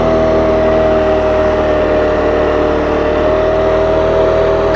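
Engine of a rented CVT scooter climbing a mountain road with sharp hairpins in Andalusia, a steady close drone with a constant mid-pitched whine and no talk.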